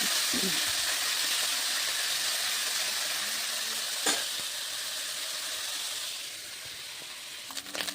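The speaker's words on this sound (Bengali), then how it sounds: "এবার মাছগুলো আমি ভেজে নেব" Small chuno fish fry in hot oil in a wok, a steady soft sizzle with brief stirring scrapes and clicks, fairly faint and close, tapering slightly toward the end.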